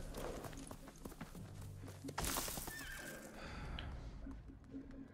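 Horse in the video game Ghost of Tsushima whinnies loudly and close, with clip-clop hoofbeats and shuffling steps around it before and after.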